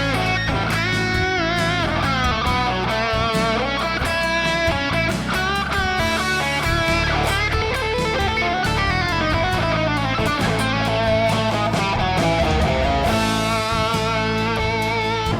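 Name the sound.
backing track played in Lava Plus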